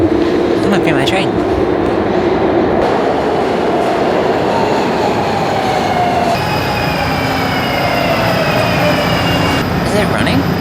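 A train sits and moves at a station on a trip toward Chicago, continuous heavy rumble with wheel squeals and rail clatter throughout, loud and close, with faint talk in the background.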